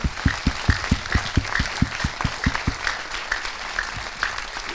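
An audience at a conference talk claps in an opening flurry of sharp, close claps that gradually thins out and fades over several seconds.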